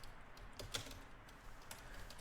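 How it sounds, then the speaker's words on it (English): Faint, quick keyboard typing on a computer, light clustered key taps under a soft background hiss, no voices. "You can write here Muhammad Arshad Ahmad Python certificate"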